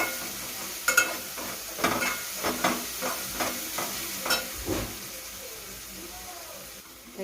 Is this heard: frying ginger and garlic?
yes